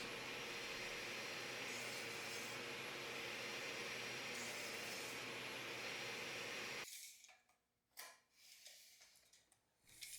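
A table saw fitted with a dado blade cuts wood on a pass guided by a heavy miter gauge, a loud continuous whine for about seven seconds, then stopping abruptly into quieter scattered knocks and handling noise.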